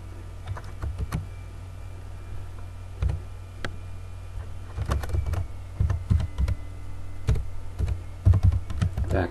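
Computer keyboard typing while program code is entered in Pascal, with irregular bursts of close key clicks over a steady low electrical hum, no voices.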